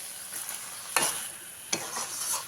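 Red spinach in a pan is stirred together with flour water, a soft steady sizzle cut by two distinct scraping stirs about a second apart, close and without voices.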